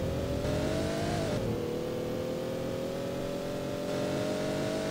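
Ford GT race car engine in a racing video game, revving steadily at high pitch with a brief rise and dip near the start, then holding a sustained loud drone throughout.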